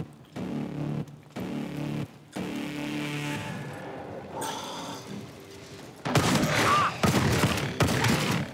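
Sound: gunfire in video game Call of Duty Advanced Warfare zombies

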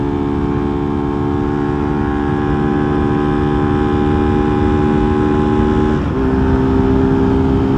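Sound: Honda Titan 150 carbureted motorcycle accelerating at speed

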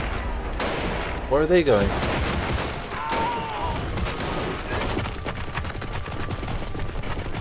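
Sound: machine gun fire in Army Men of War video game

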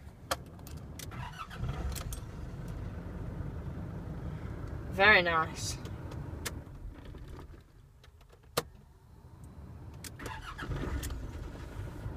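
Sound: 2004 Nissan Navara D22 pickup engine starting

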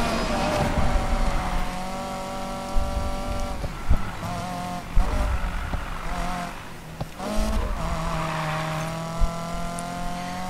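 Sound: car nitrous boost in Need For Speed Payback video game

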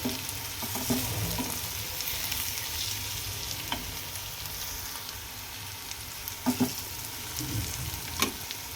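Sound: sautéing green chili and ginger-garlic paste with spices

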